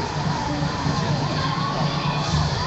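Crowd at a running race finish line cheering and clapping for an arriving runner, a steady dense wash of applause and shouts with a faint voice over the top.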